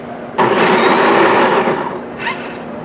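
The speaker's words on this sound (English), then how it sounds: "The celery is being ground up and processed with ease and convenience without you having to tamp it" Vacuum blender juicer grinding celery stalks without tamping, a loud steady motor whir and chopping roar starting abruptly and running about a second and a half, then easing off with a brief second burst near the end; no talking.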